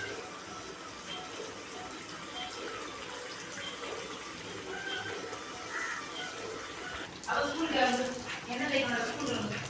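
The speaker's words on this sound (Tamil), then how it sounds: "இப்போ நம்ம ரெடி பண்ணி வச்சுக்கிறத நல்லா பொரிச்சு எடுத்துக்கலாம்." Wheat masala poori deep frying in hot oil, giving a steady hissing sizzle that swells louder toward the end, with a voice talking over it.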